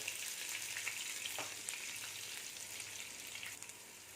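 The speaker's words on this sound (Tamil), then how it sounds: "வெங்காயம் நல்லா வதங்கிடுச்சு" Small onions sautéing in a pan for a mutton chops gravy, a steady bright sizzle with faint scraping stirs throughout, no talking.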